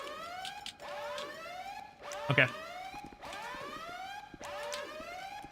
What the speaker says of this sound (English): the alarm is killing me